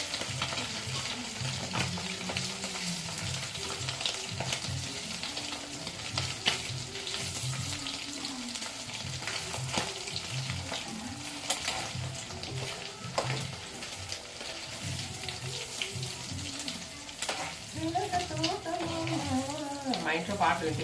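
Dried fish frying in a pan gives a steady, close sizzle that runs throughout, with stirring and clinking in the foreground.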